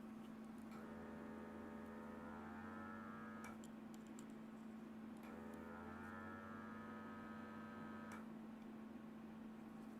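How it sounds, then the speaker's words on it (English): A vacuum pump on a Pixel Pump pick-and-place tool for hand-assembling PCBs hums steadily and faintly, its tone rising in two separate spells as it engages, with soft clicks between them. "obviously you hear it, it's a vacuum pump"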